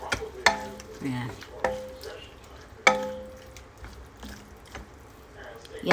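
Shrimp stir-fried in a pan, with repeated clattering scrapes and knocks of a utensil over a low sizzle, and a brief voice speaking between the strokes.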